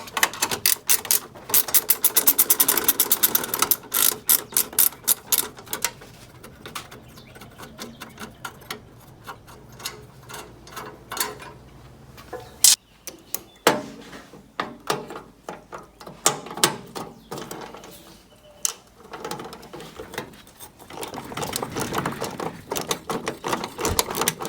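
Hand tools work on a John Deere 317 garden tractor's fuel pump as a small plate is removed: dense bursts of metallic clicking and ratcheting, loud and close, with quieter scraping and tapping stretches between.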